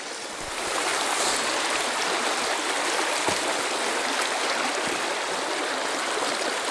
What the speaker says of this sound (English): I'll fill this platypus thing up and just show you it sort of trickling through